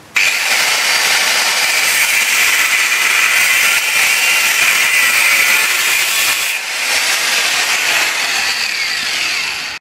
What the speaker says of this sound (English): It's important when you cut this stuff to cut slowly, because if you go hammering into it, you'll break the disc and bits go flying everywhere.